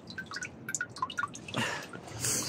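Water dripping in a flooded cemetery, a quick scatter of clear close plinks with uneven rhythm, followed by rushing, splashy water noise.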